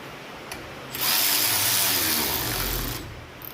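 A power drill runs down the bolts on a 1967 Shelby 8.8 rear end, one steady two-second burst of close, loud whirring set between quiet handling noise.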